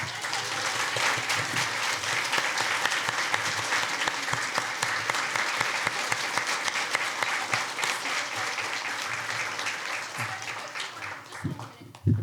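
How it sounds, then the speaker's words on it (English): A comic con panel crowd claps and cheers warmly, a broad, sustained roar of applause from a large audience that carries on at an even level before cutting off abruptly at the end. "everyone's going to clap for her"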